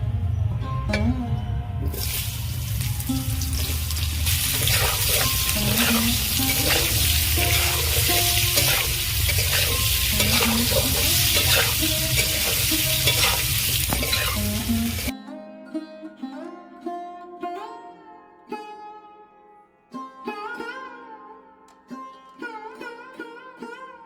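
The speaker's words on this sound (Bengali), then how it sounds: "আলু ভাজার ওই তেলের মধ্যে আমি এঁচড়গুলো ভেজে নেবো" Green jackfruit pieces fry in oil left over from frying potatoes, a steady close sizzle for about fifteen seconds that cuts off abruptly, followed by tonal, melodic music.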